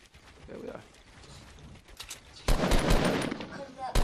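Bursts of automatic gunfire in the Fortnite Battle Royale video game, loud and sharp in the second half after a quieter opening with faint game sounds and voices.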